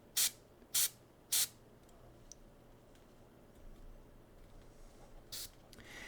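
Airbrush spraying paint onto a miniature model: three quick hissing puffs close together at the start, a quiet pause with faint clicks, then one softer puff near the end.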